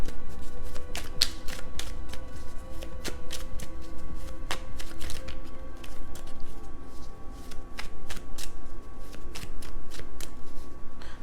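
Tarot cards shuffled by hand in a rapid run of crisp riffles and snaps, close and steady, with no voices.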